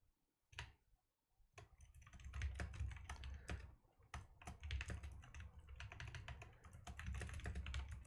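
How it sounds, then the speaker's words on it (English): Close, loud computer keyboard typing during a home livestream: rapid irregular bursts of key clicks after a brief quiet start, continuing steadily with short pauses and no voices. "Sorry if you hear my keyboard typing. I know it's a bit loud"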